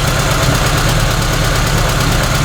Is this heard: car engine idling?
yes